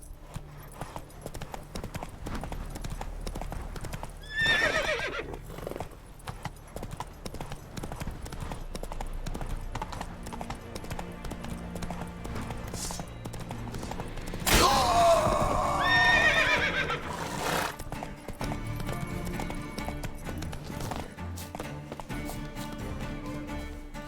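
Roach, a horse in The Witcher 3, trots with a steady clip-clop of hooves and gives two loud whinnying neighs, one early and one longer and louder midway, over low ambient game sound.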